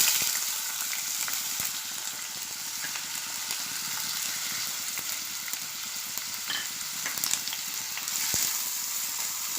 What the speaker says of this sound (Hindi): तेल गरम हो चुका है। अब मैं इसमें शिमला मिर्ची डालूँगी।